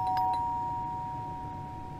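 A doorbell in the horror game The Baby in Yellow, Christmas edition, rings with a clear ding followed by a long, pure tone that fades slowly over a quiet background.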